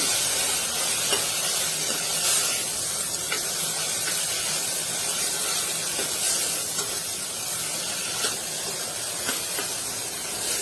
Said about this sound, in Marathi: टोमॅटो चांगला परतवून घ्यायचा।